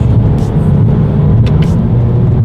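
A 2020 Toyota Corolla SE with a CVT accelerating under paddle-shift control, heard from inside as a loud, steady low engine drone with slight rises in pitch.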